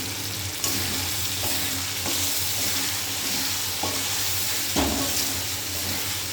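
Spice masala frying in oil until the oil separates: a loud, dense sizzle close up, broken by several sharp scrapes and taps of a spatula stirring the pan.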